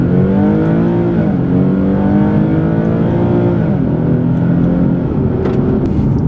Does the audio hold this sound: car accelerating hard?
yes